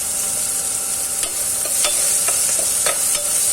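Long beans with salt and turmeric are stirred in a pan, a constant bright sizzle broken by several sharp spatula scrapes and clicks at irregular intervals, with no one speaking.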